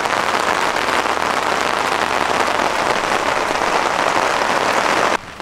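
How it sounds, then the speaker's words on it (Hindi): Steady heavy rain drums on the roof of a camper van during a car-camping stop in India, a dense continuous patter that stays loud throughout and cuts off sharply near the end. "फिर से बारिश शुरू हो गई है"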